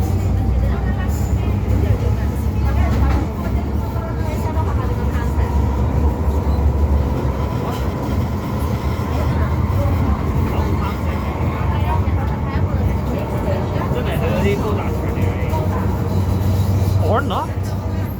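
An MTR Kwun Tong line M-Train, car C431, runs between Kowloon Bay and Lam Tin with a loud, steady motor and wheel roar and a low drone throughout, while a voice talks over it.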